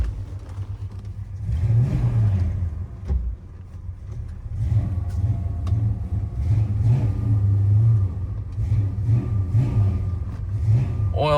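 A 1970 Plymouth Duster 340 V8 drives along with a steady low engine rumble that swells with acceleration and revving, heard from inside or close by with no talk over it.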